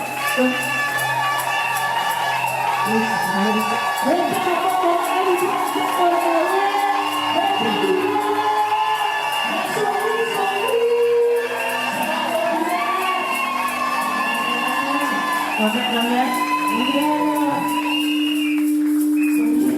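A church congregation cheers and acclaims the Lord in a sustained, loud crowd roar with shouts and whoops over steady music, continuing throughout.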